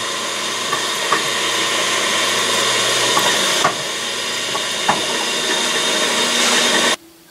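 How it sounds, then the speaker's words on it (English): A Walker Turner drill press drilling metal whirs steadily with a high tonal hum and a few sharp clicks of metal cutting, then cuts off abruptly near the end. "Now I'm at the Walker Turner drill press"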